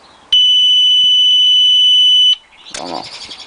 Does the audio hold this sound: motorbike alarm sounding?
yes